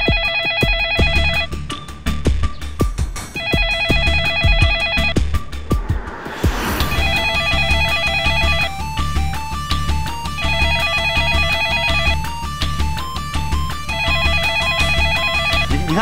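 An unanswered telephone rings in repeated electronic bursts with short pauses between them, loud and close, over a low steady background hum, with a brief noisy rustle partway through.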